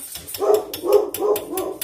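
A dog barks four times in quick succession inside a home kitchen while red velvet cheesecake batter is being mixed; the barks are moderately loud, fairly close, and nobody talks over them.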